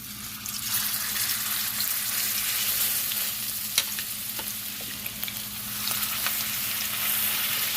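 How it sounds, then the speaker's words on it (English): Pork chops fry in hot oil in a preheated pot, giving a loud, continuous sizzle with crackling pops and a steady low hum underneath, close up and with no voices. "Now my oil is hot, and I'm gonna start adding my meat to the pot"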